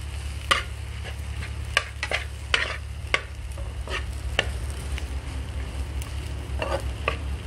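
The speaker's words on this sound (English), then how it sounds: "now I'm just going to mix this up" Mashed potato choka being mixed in a pot with a seasoning cube and paprika, with repeated scraping clicks of a utensil over a steady sizzle and a low hum, no talking.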